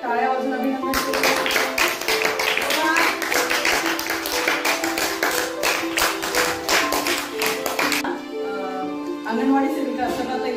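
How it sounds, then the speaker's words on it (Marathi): A group clapping hands to congratulate fifth-grade students at a school reading challenge, brisk close rhythmic claps running for several seconds before stopping, with a voice heard underneath. "मग आता यांचं आपण सगळ्यांनी टाळ्या वाजून अभिनंदन केलं."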